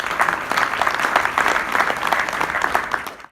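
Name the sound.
reception audience applauding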